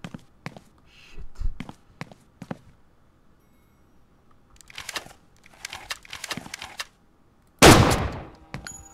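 Kalashnikov and Simonov rifle fire in the Stalin Subway game: scattered single shots and short bursts, then a tight cluster of reports and one loud, close blast near the end, with quiet gaps between.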